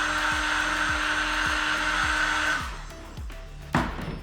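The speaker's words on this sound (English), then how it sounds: "Once that is all done, you just come back with a heat gun." A heat gun blows a steady, loud whirring stream of hot air over screen-printed ink on fabric, accompanied by a repeating low mechanical thump. It then switches off, leaving a clatter and a brief knock.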